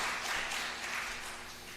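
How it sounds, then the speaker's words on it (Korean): A congregation applauds the choir during a Sunday church service: a brief, fairly soft wash of clapping from many hands that fades slightly at the end. "박수 한번 합시다"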